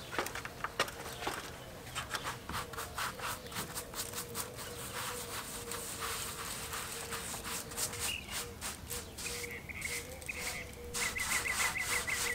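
Sponge float scrubbing wet stucco along the edges of a house wall, a soft steady rhythmic rubbing and scraping up close, with faint bird chirps in the background.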